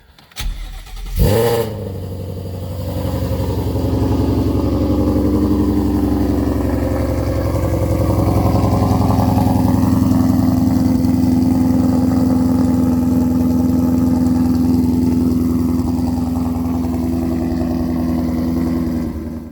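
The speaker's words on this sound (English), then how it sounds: "just might as well say some stuff that I found out while I just let my car warm up" A Ford Mustang GT350 engine cranks and fires in a short burst, then settles into a steady, rumbling idle as it warms up in the cold. The engine is close and loud, with no talking.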